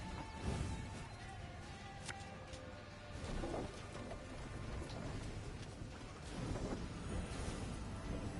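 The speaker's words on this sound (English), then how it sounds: "The storm is coming." Steady rain with low rolling thunder in a storm in the video game Thronebreaker, a continuous hiss of falling water with swelling rumbles, no voices.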